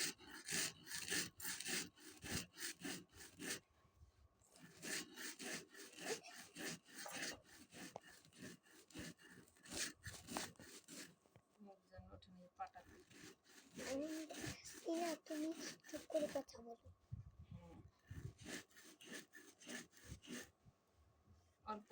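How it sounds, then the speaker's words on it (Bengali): Rice being ground slowly by hand into flour at home in a village, a steady rough scraping and rubbing stroke repeated over and over, close and fairly loud, with brief pauses between bursts. "আমি চাউলগুলো আস্তে আস্তে বেটে নিতেছি"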